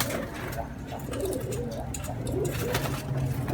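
Teddy pigeons cooing close by, soft repeated low burbling coos over a faint background murmur.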